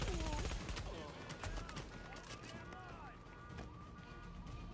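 Rapid gunfire bursts in The Division, a third-person shooter, crackling continuously through a busy battle mix with footsteps and effects, while someone talks over the top throughout.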